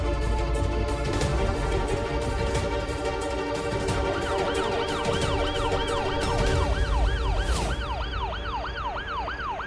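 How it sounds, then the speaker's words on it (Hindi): An emergency siren wails in a rapid repeating rise-and-fall pattern amid loud, busy street noise. "सायरन की आवाज सुन रही है?"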